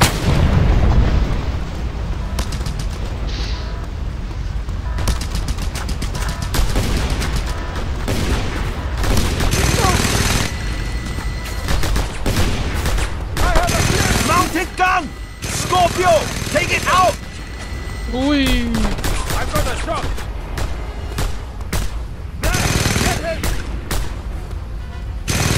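Repeated gunfire and heavy booming blasts in Just Cause 2, dense and loud throughout, with shouted voices cutting in over the shooting.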